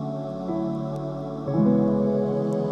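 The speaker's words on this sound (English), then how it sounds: "I added a fire sounds and also dark winter ambient sounds" A lofi track intro plays sustained warm chords over soft crackling fire and dark winter ambience, steady and mellow, with a chord change partway through and no voices.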